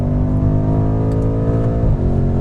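A BMW M5 F90 accelerates on a race track, its engine droning steadily and loud up close with a smooth, continuous tone that briefly dips near the end as it shifts or exits a corner.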